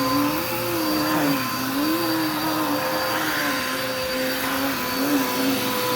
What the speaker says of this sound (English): I'm actually vacuuming by myself, so it's kind of hard